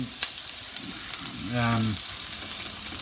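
Krill cooking in a pan give a steady, close sizzle with a brief voice in the middle, soft clicks throughout.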